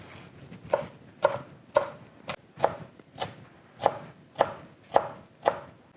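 A knife cuts a bell pepper on a board in about ten crisp, evenly spaced chops, close and fairly loud, with no talk.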